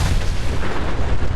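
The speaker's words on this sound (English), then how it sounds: "I'd say that was definitely in my top 3 best nuclear explosions I've witnessed" A nuclear explosion in modded Skyrim, a loud sustained booming roar with heavy low rumble and rolling blast texture throughout, alone without voices.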